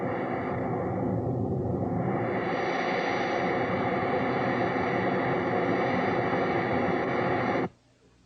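Jet engine roar passed through a narrow band-pass filter, heard as a loud, continuous hiss whose band slowly shifts in pitch before cutting off abruptly near the end.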